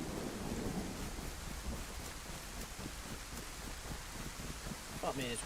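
Heavy rain pours steadily in the survival game DayZ, a dense hiss with low rumbling, while players talk quietly underneath it.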